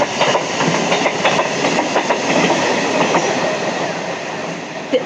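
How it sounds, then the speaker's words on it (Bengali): A train rolls past close by, loud rhythmic clickety-clack of wheels over rail joints with a steady rumble, no talking. "দেখো ট্রেন আসছে।"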